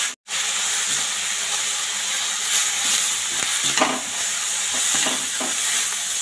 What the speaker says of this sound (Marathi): तर हळद घालते, अर्धा चमचा हळद, आणि हे छान असं मिक्स करून घ्या